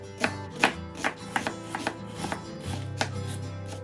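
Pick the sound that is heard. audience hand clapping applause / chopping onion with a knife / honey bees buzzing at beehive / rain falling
chopping onion with a knife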